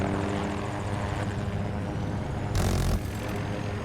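A small aircraft in the Battlefield 2042 video game drones loudly and continuously with a throbbing, rotor-like engine tone, swelling into a brief, louder rush near the end.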